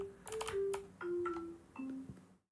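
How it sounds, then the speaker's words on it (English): A short synthesized sound effect plays when the spacebar is pressed in a homemade program, a quiet string of a few clipped, tonal beeps and chirps ending abruptly. "if I press spacebar, it plays a sound effect"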